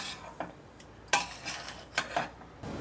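Cashews, almonds and charoli being stirred into roasting rava in a pan for rava ladoo, a few sharp spoon-on-metal scrapes and clinks at irregular intervals over a quiet background, no talking.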